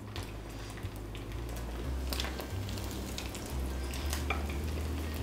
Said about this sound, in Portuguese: Dá uma passada boa e já vai para a panela com a gordura quente.